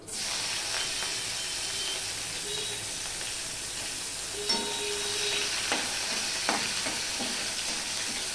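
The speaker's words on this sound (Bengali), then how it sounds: "ওইদিকে কালো জিরাটা ফোড়ন হয়ে গেলে আমি দিয়ে দিচ্ছি রসুন" Garlic cloves drop into hot oil with a nigella seed tempering, giving a continuous loud sizzle and hiss with a few brief clatters near the pan.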